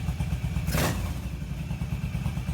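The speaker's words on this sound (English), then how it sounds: "Off-idle throttle response seems really good" A Yamaha V-Star 1100 motorcycle with a Maxair Predator Pro pod filter kit idles close by with a steady low rumbling thrum. Brief off-idle throttle blips come through, including one short rise near the start.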